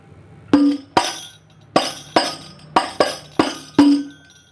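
Banjari frame drum struck in the half lanangan rhythm, a syncopated pattern of eight sharp hits, some ringing with a low tone, some doubled quickly, played alone and close.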